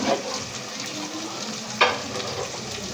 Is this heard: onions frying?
yes